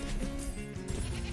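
A goat bleat emote from the video game Goat Simulator 3 sounds as a brief wavering bleat over a dense, steady game background, fairly faint.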